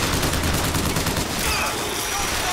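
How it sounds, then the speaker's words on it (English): Enemy gunfire in Bioshock Infinite, dense overlapping shots and a constant fusillade that fills the whole moment, loud and continuous with no clear pauses. "Stop shooting me,"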